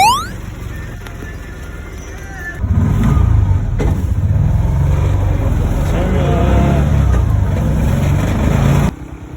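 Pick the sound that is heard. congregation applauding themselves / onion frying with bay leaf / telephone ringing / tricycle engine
tricycle engine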